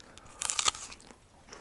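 Someone bites into a crunchy late-ripening apple outdoors, a short burst of sharp crisp cracks followed by a few faint chewing crunches, close and alone without talk.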